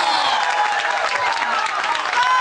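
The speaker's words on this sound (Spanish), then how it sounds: "Fuerte el aplauso para Coqui, el motorero." Dense, loud applause from an audience fills the whole moment, a continuous crackle of many hands clapping.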